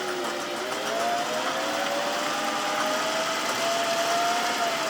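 A Singer 500A Rocketeer sewing machine runs a decorative cloud stitch at a short stitch length, giving a continuous, even motor hum and needle whir up close, with no pauses and no talking.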